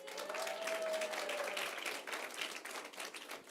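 Audience applause at a school end-of-year assembly, a dense wash of many hands clapping at steady volume throughout, with no talking over it.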